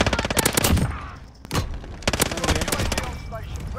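Finn LMG light machine gun in a video game firing in two long rapid bursts split by a brief pause with one sharp lone shot, loud and close, the rhythmic rattle continuing through to the end.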